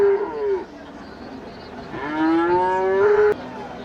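Cattle at the Manapparai cattle market moo in two drawn-out calls, a short low one and then a longer rising bellow, loud and close, with faint market noise behind.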